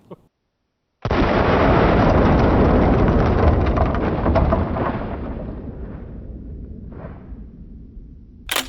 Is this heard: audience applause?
no